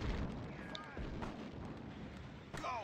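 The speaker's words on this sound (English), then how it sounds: "Artillery ready. Where to, sir? Fire at will." Artillery firing in a video game: low, booming explosive shots over a steady battle din, with faint game sound effects and whistling tones scattered through.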